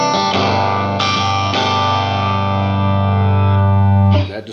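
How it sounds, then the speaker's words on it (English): Electric guitar through a 1953-55 Gibson BR-9 tube amp, overdriven, rings out in sustained, gritty chords with thick harmonic buzz, held loud and steady before cutting off abruptly at the end. "That distortion is the amp"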